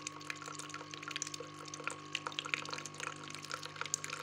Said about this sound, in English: So we're flushing out the scaling liquid, which is not pleasant to taste